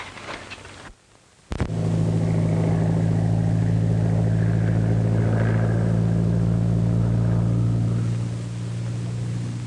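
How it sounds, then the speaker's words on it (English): After a brief drop to near silence, a loud, steady engine drone of a 1930s airplane flying overhead rises and holds, a broad roar with a low rumbling tone that continues throughout. "It's a plane."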